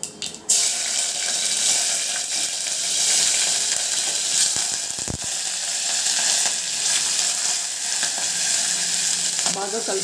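Mustard seeds, cumin, green chillies and curry leaves crackle and sizzle in hot oil for a Telugu junaka (pitla) dish, a loud, continuous hiss with a sharp burst at the start and faint scraping near the middle.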